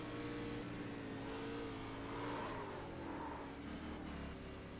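Race car engine in an ANZCAR Thunder series event at Atlanta revving continuously and loudly, with rising and falling pitch as a downshift comes in slightly mistimed, a missed rev blip.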